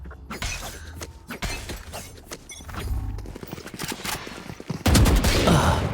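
Gunfire in the Valorant video game: rapid bursts and single sharp shots crack one after another in irregular clusters, loud and close, ending in a heavier sustained burst, with little speech.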